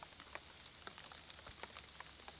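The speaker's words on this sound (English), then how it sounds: "It just started to rain." Light rain starting to fall outside a yurt, faint scattered patters and drops tapping irregularly on a surface, quiet and close.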